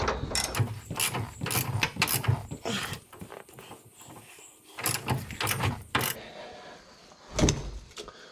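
A ratchet tightens a torsion bar adjustment bolt under a Duramax pickup's lower A-arm, giving quiet bursts of clicking that start and stop several times with pauses between.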